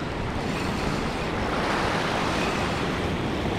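Surf breaks steadily on the beach at K'Gari (Fraser Island), where white-water foam turns to green water, with a loud, continuous roar and some wind noise on the microphone and no voices.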